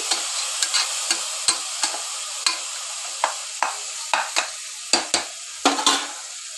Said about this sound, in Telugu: కొద్దిగా పచ్చివాసన పోయేంత వరకు మనం దీన్ని ఫ్రై చేసుకోవాలి.